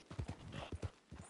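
A starter horse in Red Dead Redemption 2 Online trots with quick, close clip-clopping hoofbeats in an uneven rhythm, fairly faint, with someone talking quietly underneath.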